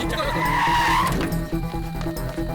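Tires squeal as a car brakes and skids to a stop in a Hindi action film, a loud, rising screech over a rumbling engine, with music and shouting voices around it.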